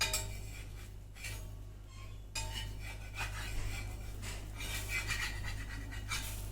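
A thin Kerala flatbread, rolled dosa-thin, is turned over in a pan with light scraping and metallic clinks of a spatula against the pan, close up over a steady low hum, no talk.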